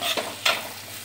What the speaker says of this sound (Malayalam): ഒന്നും കൂടി ഇളക്കി കൊടുത്തിട്ട്